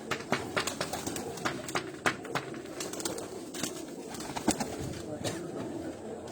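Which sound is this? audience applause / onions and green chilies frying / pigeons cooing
pigeons cooing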